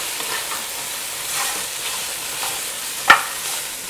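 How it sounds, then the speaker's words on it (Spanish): Meat sautéing in oil in a pan for a Dominican rice, beans and meat meal, a steady close sizzle with soft stirring scrapes and one sharp utensil knock near the end, no voices. "la carne, miren, está sofriendo"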